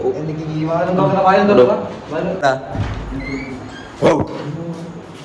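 A dog barks once, sharp and close, amid people talking.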